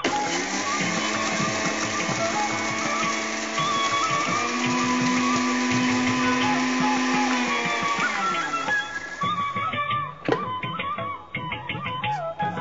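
Mixer grinder whirring steadily as it grinds roasted sesame seeds with dried red chillies, a loud continuous motor drone that shifts pitch midway and turns rougher and more uneven toward the end, with no talking.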